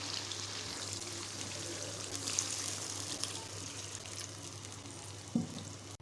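Water is poured into a pan where chicken and tinda are cooking in ghee, a soft, steady rushing pour with faint sizzling in a quiet kitchen.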